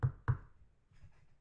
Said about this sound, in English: Knocks on the gate.